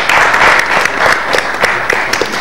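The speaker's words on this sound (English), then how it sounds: "Clap for everybody." An audience applauds a discussion panel, a loud burst of dense clapping that eases slightly toward the end, with no talk over it.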